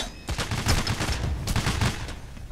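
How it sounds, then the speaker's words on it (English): In PAYDAY: The Heist, gunfire erupts in rapid clustered bursts of sharp shots, steady and fairly loud across the moment, with a short pause partway through. "Oh god, I'm being shot."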